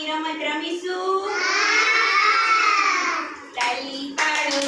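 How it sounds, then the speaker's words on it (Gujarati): Anganwadi preschool children clap their hands during a classroom clapping game, a few sharp bursts rising over loud, sustained children's chanting. "ચાલો બાળકો તાળી પાડોની રમત રમીશું."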